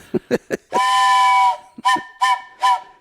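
A train whistle blows close by in the flagman-protecting-train-rear signal: a few short toots, one long steady blast, then several more short blasts in a rapid signaling pattern.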